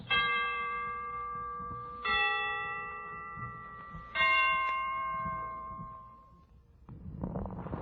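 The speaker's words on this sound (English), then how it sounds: "The Christmas bells can ring anytime they're ready." Christmas church bells, heard on a 1942 Christmas radio broadcast, ring out in three clear, resonant strikes about two seconds apart, each tone lingering and slowly fading, with a soft rustle at the end.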